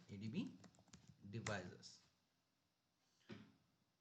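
Someone types an ADB command on a computer keyboard, producing quiet, close clusters of key clicks, partly mixed with a voice and followed by near silence.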